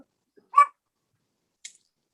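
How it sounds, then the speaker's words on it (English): A small dog gives one sharp little bark, short and fairly close, followed about a second later by a faint, brief yip in otherwise quiet surroundings. "I love his little bark"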